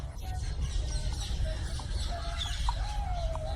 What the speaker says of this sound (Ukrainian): Ось птахи миються у фонтані